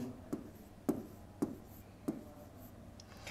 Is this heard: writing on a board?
yes